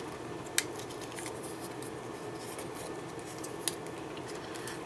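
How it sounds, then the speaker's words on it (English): Tamiya hobby scissors cutting soft plastic for a model Landmaster's rocket tubes: a quiet, steady scraping with a couple of sharp, crisp snips standing out, close up and without any talking. "When you cut plastic with scissors"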